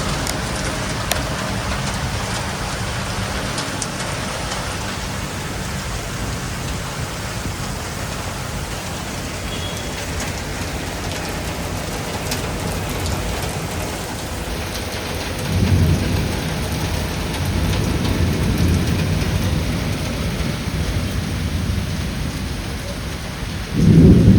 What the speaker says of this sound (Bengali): এখন একবারে মুষলধারে বৃষ্টি পড়ছে, মুষলধারে।